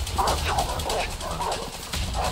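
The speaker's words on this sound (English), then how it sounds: "Dogs? Are you serious?" Pursuing dogs in the video game A Way Out, barking and yelping repeatedly in a steady, fairly loud run of excited yips over continuous game background noise.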